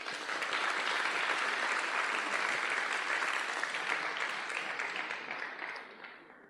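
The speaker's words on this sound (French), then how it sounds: "Vous pouvez l'applaudir." Dense, steady applause from an audience at an inter-school eloquence contest final, a full continuous wash of clapping that holds strong for several seconds before tapering and fading at the end.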